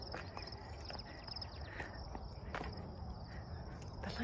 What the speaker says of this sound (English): You can even hear the crickets.